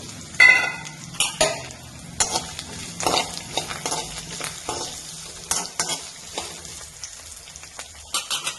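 Grated coconut and curry leaves fry in a pan while being stirred, giving a crackling sizzle broken by repeated scraping strokes and metal clinks of a spoon against the pan, close and uneven in rhythm, without speech.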